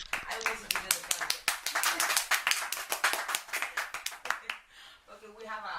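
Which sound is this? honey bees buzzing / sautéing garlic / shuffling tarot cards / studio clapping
studio clapping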